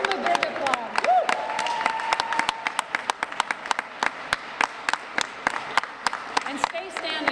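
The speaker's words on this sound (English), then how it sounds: "Give them a big applause." Scattered applause from a luncheon audience, with sharp, distinct individual claps standing out near the mic and voices and a cheer mixed in among them.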